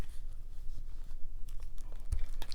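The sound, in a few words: paper crumpling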